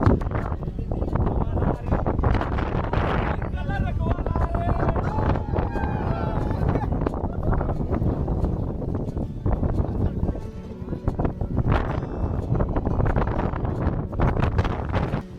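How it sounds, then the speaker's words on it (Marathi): Wind gusts roar steadily across the microphone during a descent on the Kalsubai peak trek, a broad buffeting rush that stays loud throughout with only a brief lull. "तिकडनं आता आपल्याला वारा लागला"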